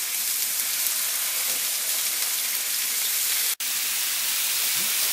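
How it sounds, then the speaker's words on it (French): Monkfish sears in a hot frying pan, giving a steady broadband sizzle and crackle throughout, with one brief drop in the sound partway through. "je prends ma lotte et je la pose dans ma poêle"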